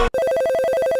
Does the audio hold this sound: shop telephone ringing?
yes